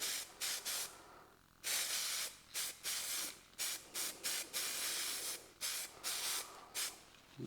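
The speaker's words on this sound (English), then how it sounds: "Again, spraying away from where you're working." Repeated hissing bursts of an aerosol spray can fixing static grass and scenery on a model railway layout, about a dozen short and longer sprays in irregular rhythm, close and fairly loud with brief pauses between.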